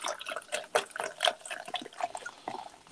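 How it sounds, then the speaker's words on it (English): Beer poured into a glass, a sputtering, splashing liquid stream with uneven gurgling bursts running steadily for about three seconds, fairly close. "Pouring a beer."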